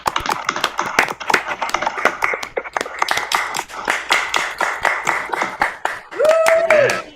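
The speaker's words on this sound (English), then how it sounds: "everybody unmute for a second and applaud for everybody that was performing tonight" Participants on an unmuted online call clap together in a scattered, uneven patter, with voices talking over the clapping throughout and a brief tonal sound near the end.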